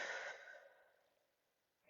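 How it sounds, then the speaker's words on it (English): A single long, deep exhale during a strength and flow workout, breathy and close, fading out over a couple of seconds with a faint catch of breath at the end. "Nice deep breaths."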